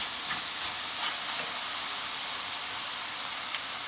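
Cauliflower stir-frying in a hot pan with vegetables, a steady, even sizzle and hiss held at one level throughout, with no talk over it.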